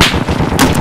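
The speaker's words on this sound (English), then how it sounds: "Alright, firing now." A weapon fires in a military video game, a loud, dense blast of gunfire-like noise filling the short moment, close and forceful with a second burst near the end.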